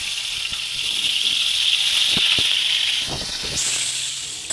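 Okra pieces frying in hot oil in a pan give off a steady, close sizzling hiss that runs throughout, with a few light clicks and taps of utensils and no talking.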